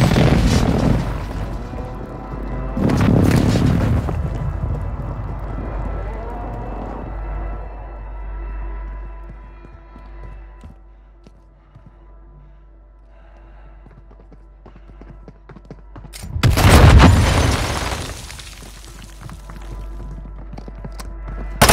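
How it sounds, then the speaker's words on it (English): A precision airstrike in Warzone Mobile lands as two deep, rumbling explosions early on, then a quiet stretch, then a louder third blast with a rolling boom. "Enemy precision airstrike."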